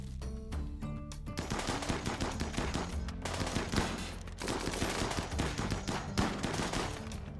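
Rapid bursts of video game gunfire roar loud and dense throughout, machine-gun rattle layered with shots in a water-covered map, with brief dips between volleys.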